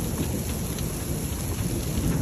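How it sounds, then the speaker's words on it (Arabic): A hailstorm with heavy rain and violent thunder northeast of Mecca: a loud, continuous roar of falling rain and hail with deep rumbling underneath, no voices. "تساقط حبات البرد"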